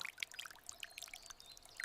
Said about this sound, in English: pouring a thin stream over the soil